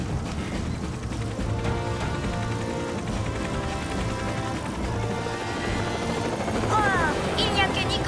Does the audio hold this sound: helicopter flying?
yes